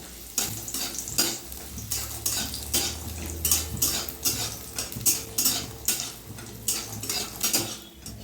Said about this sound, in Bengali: বড়িটা ভালো করে ভেজে নেব।